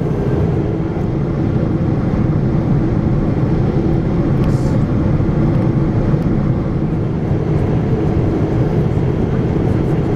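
Steady, loud cabin roar inside a Thai Airways Boeing 777 on descent into Bangkok with flaps extended, a constant broadband engine and airflow rumble with no change across the stretch.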